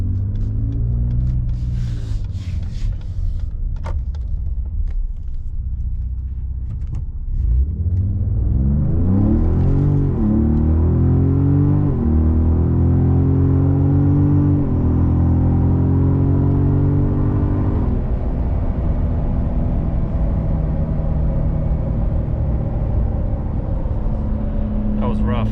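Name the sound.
tuned 2018 Ford Raptor pulling out and accelerating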